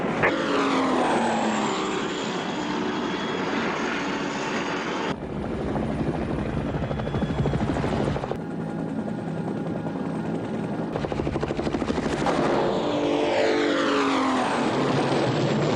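An unidentified aircraft coming in fast in a TV action scene, a loud, continuous roar of engine and rotor that stays dense and close throughout, with abrupt shifts in tone as the shots change.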